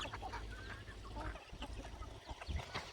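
Scattered short clucks from chickens in a shared cattle and poultry shed on a semi-enclosed farm, faint and somewhat distant, over a low background rumble with no talking.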